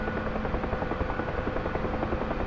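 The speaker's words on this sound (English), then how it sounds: "You seem to sense the helicopter changing" A UH-1 Huey helicopter in the DCS flight simulator drones steadily, its rotor thump and turbine whine holding loud and constant throughout with no talk.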